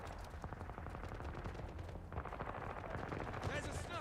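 Gunfire in the video game 007 First Light, a dense rattle of rapid shots and booming reports under continuous game noise and music, moderately loud, with a voice talking over it.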